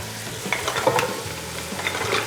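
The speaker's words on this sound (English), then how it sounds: "Now it's our time to add the mussels into our mix." Mussels tipped into a hot pan for a Mediterranean marinara dish, with a steady close sizzle and bursts of spoon stirring and scraping over a few seconds, no voices.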